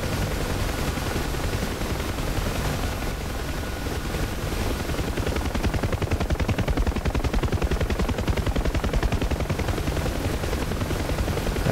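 A UH-1H Huey helicopter in the DCS flight simulator game, its rotor thumping in a loud continuous beat, with bursts of gunfire and booming explosions layered in, growing more rapid and choppy in the second half.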